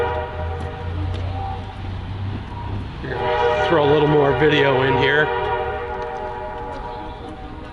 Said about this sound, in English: just in time for the train whistle to go off